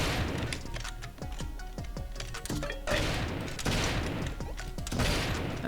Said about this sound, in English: we fire grenades all over the place